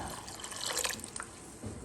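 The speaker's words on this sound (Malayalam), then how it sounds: "അതിലേക്ക് ഞാൻ കുറച്ച് നാളികേരപ്പാൽ ഒഴിക്കാൻ പോവാണ്" Coconut milk pours into a cooking pot in a home kitchen, a short liquid splash and trickle with a few drips, close and fairly quiet, no talking.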